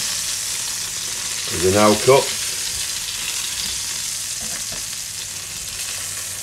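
Garlic chicken pieces fry with a steady close sizzle in a pan while a person speaks briefly over it, followed by a couple of soft clinks as the pieces are lifted out.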